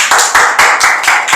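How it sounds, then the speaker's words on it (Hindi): A group of students clapping in a coaching class, a few quick bursts of applause in a row, close and loud with no talking. "ताली बजाओ।"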